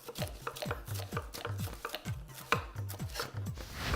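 Red pepper, green pepper and onion are chopped by knife on a board in quick, uneven strokes, each cut a crisp tap, fairly close and alone with no voices.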